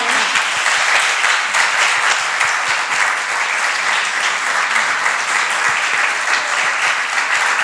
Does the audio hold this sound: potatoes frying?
no